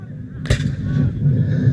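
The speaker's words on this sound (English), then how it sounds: "they've now got themselves out of the way of the cannon" A single loud boom from a cannon firing at an American Civil War reenactment at the Suffolk Military Show bursts out over a steady rumbling outdoor background, leaving a lingering low roar afterward.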